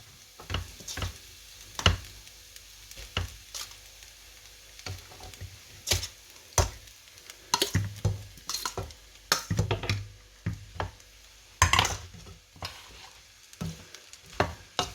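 Idiyappam string hopper noodles stirred in a frying pan, a run of sharp scraping and clattering strokes at an irregular rhythm over a faint sizzle, close and fairly quiet.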